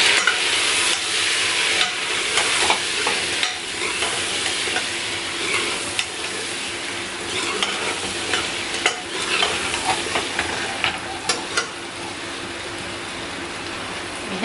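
Turmeric, garam masala and black pepper powder roasting in a pan, a continuous close sizzle broken by frequent scraping stir strokes for the whole stretch, no talking.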